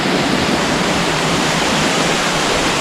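Steady rushing water fills the scene, a dense continuous roar of a stream or small falls close by, with no voices.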